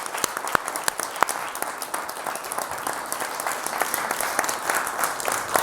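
A studio audience at a French TV broadcast applauds, dense continuous clapping with sharp individual claps standing out, fairly loud and steady for nearly six seconds, without speech.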